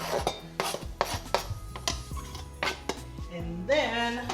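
Flour, green onions and regular onions being mixed together in a bowl in a home kitchen, a steady run of scraping, clinking utensil strokes against the bowl, close and moderately loud, with brief voice sounds near the end.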